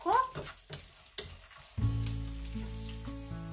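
Anchovies sauteing in a pan, starting with a few knocks and stirring clatters, then a steady close sizzle with faint background hum.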